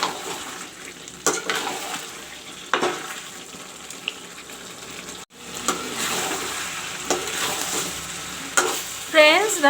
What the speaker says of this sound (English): the chicken is frying very nicely along with the masalas which I have put.